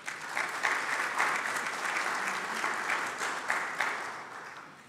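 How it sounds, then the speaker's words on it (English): A congregation claps during a morning service, a steady room-filling patter of many hands with a few sharper individual claps standing out, sustained at moderate level before tapering slightly. "So another round of applause for them,"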